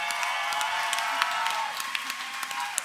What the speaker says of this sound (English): let's give Lady Phil a massive round of applause while she composes herself